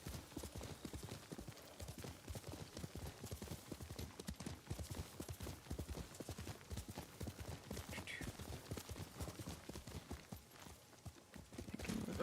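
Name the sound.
horse hooves clip-clopping in a video game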